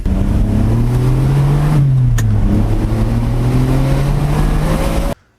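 A Jaguar XJ220 supercar engine revs loud and close, with steady low harmonics that rise and fall through several throttle changes before cutting off abruptly.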